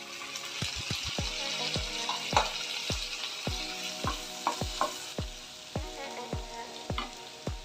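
Tomatoes fry in a pan for Tamil-style mutton chukka. A hiss of sizzling sits under a steady series of sharp, evenly spaced pops and spits, close and moderately loud, with no talking.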